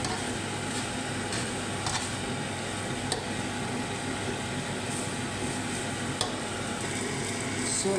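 Steady scraping and sizzling of rice being stir-fried for nasi goreng in a hot pan, continuous and fairly close, with occasional sharp clinks of a utensil against metal.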